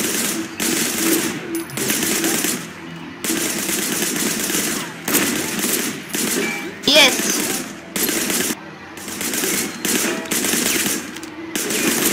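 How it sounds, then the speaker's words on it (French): Bursts of automatic gunfire in the Sleeping Dogs video game, rapid repeated shots in loud stretches separated by short pauses, with game dialogue and music faintly underneath. "on tire sans regarder"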